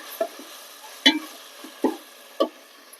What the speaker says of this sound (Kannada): ಹಸಿ ವಾಸನೆ ಹೋಗುವವರೆಗೂ ಫ್ರೈ ಮಾಡ್ಕೊಳ್ಳೋಣ